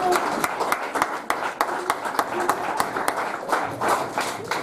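A church congregation claps and cheers during a French-language sermon on faith, with a dense run of uneven handclaps and voices mixed in, fairly close and steady throughout.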